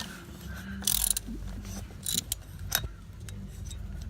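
A 13 mm socket wrench ratchets on a bolt in a car engine bay, giving short bursts of close, faint metallic clicking separated by pauses, with clinks of the tool against metal.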